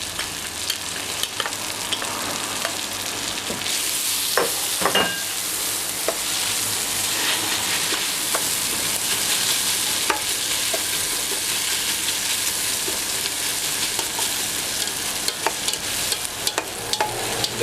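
Onions for French onion soup cook lightly in a pan, giving a steady, close frying sizzle throughout, with occasional scrapes and taps of a utensil stirring them; no voices.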